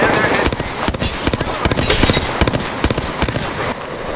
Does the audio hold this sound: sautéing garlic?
no